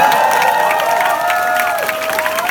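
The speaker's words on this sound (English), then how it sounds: "So give her a round of applause." A concert audience cheers and applauds loudly after a performance, dense steady clapping with whoops and shouts washing over sustained tones throughout.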